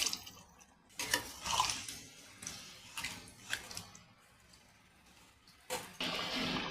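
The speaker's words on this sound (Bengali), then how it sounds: "এবার পরিমাণ মতন জল দিয়ে দেবো।" Water splashes into a pan of braised chicken being cooked as Bengali kosha murgi. The pour comes in several uneven, moderately close splashing bursts with brief quiet gaps between them.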